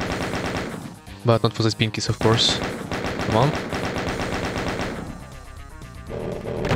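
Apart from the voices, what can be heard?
chain gun firing in video game Doom 2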